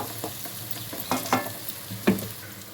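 A spoon stirs tomato, egg and cauliflower curry in a pan, with a steady background sizzle and a few distinct scraping strokes, close and fairly loud.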